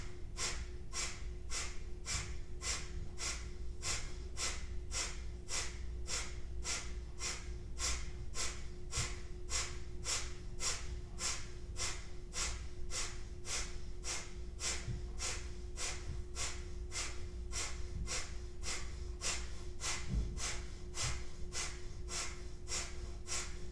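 Breath of fire yoga breathing runs as a long, even series of quick, forceful nasal exhales, about two per second, close and steady over a faint low background hum.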